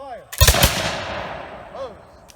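Historical flintlock musket fired after drill commands, one sharp, loud close report followed by a short echoing tail, with a voice calling commands just before.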